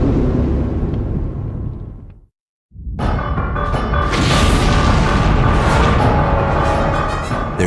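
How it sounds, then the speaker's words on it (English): A nuclear blast sound effect delivers a loud, deep, rumbling roar that cuts to a moment of silence, then returns as a second sustained thunderous rumble with crackling debris. "you won't believe how different a nuclear blast in space looks"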